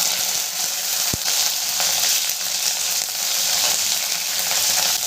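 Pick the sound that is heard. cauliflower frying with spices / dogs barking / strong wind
cauliflower frying with spices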